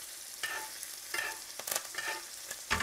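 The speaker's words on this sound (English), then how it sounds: "now we're going to baste it. So lean the pan towards you." Steak basting in a hot pan with herbs and garlic, giving a soft steady sizzle broken by repeated spooning splashes and scraping strokes at a fairly even rhythm, close and moderately quiet.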